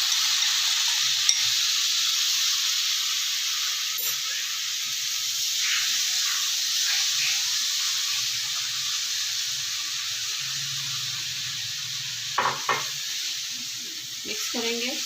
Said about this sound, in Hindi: अब मैं इसमें आधा कप भर के चीनी डाल रही हूँ और साथ ही मैं इसमें पाइनएप्पल भी डाल दूँगी